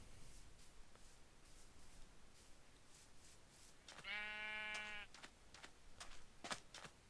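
A single sheep bleats once in the Minecraft video game, a clear wavering call lasting about a second, standing out against quiet game ambience and faint clicks.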